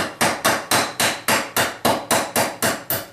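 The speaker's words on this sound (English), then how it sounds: "So I'll just lay it down and give it a couple of light taps." A hammer lightly taps a stiff spring-retained pin into a hammer head, about eleven even, sharp strikes at a steady rhythm, close and alone.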